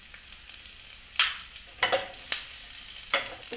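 Garlic dropped into hot oil for veg momo filling, giving a few separate bursts of sizzling and crackling close by with quieter frying hiss between them; no talking.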